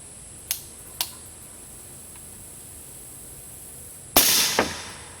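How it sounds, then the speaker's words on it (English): Suppressed rifle shots through a Mag Tactical suppressor: two light sharp cracks spaced half a second apart, then a gap and a louder, fuller report quickly followed by another crack. "We're going to take 5 rounds with the Mag Tactical Suppressor"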